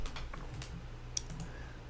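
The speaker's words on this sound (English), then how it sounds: "Let me grab it on the keyboard." Quiet keystrokes on a computer keyboard while setting up animated text in Cinema 4D, a few soft scattered taps with one sharper click, close and alone over low room hum.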